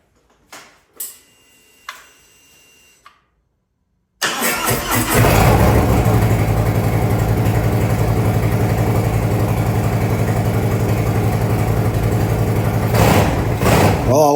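A 2023 Harley FLHXS with a Screamin Eagle 55mm intake manifold starts after a few quiet clicks and a pause, then roars close and loud, rumbling and revving steadily for about ten seconds before easing off.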